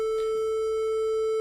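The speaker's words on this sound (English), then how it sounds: "we'll see that it was originally a square wave" A synthesizer plays a steady square wave tone, a single sustained buzzy pitch rich in harmonics that holds evenly from start to finish with no speech.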